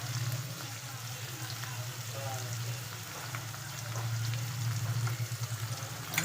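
A tadka tempering sizzles softly in a pan for stale rice, a low, steady crackle with a faint hum beneath and a voice murmuring quietly in the background.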